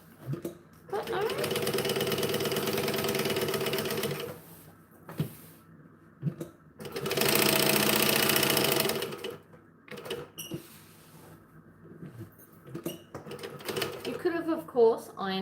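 A sewing machine stitches as its bobbin thread runs low, in two loud bursts of fast whirring a few seconds each. Quiet pauses, small handling clicks and a speaking voice fall between the bursts.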